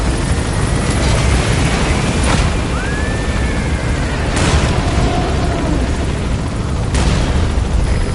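A helicopter in the Metal Gear Solid V video game, a loud continuous rotor roar filling the scene, punctuated by a few sharp booms and whooshing effects.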